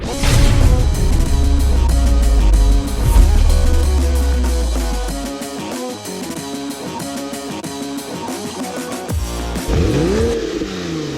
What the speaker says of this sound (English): there's a gas-powered car going by, making a lot of whooshing sounds